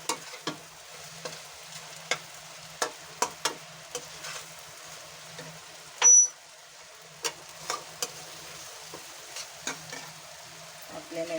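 Cooked rajma being stirred into masala in a pan, with scattered scraping knocks of the spoon over a soft sizzle, close and fairly quiet, no talk.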